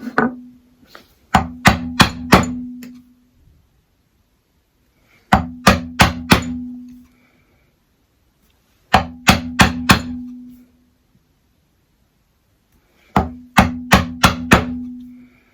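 Mallet blows on a chisel chopping a wooden mortice by hand, heard as four bursts of four or five sharp, hard knocks in quick rhythm. The bursts are loud and close, with quiet gaps between them.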